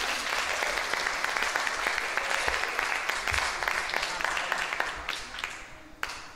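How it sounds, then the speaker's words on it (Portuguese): Church congregation applauding during a Sunday school end-of-quarter gathering, a steady wash of clapping from many hands at moderate distance that thins out toward the end, with a few louder individual claps near the close. "merece uma salva de palmas"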